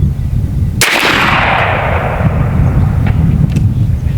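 A single loud, close blast from a 12 gauge AEA Zeus shotgun firing Civil War style chain shot, followed by a long rumbling decay and outdoor background noise.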